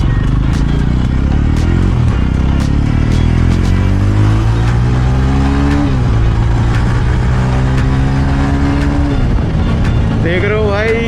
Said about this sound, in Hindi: देख रहे हो भाई क्या पिकअप दे रही है बाइक।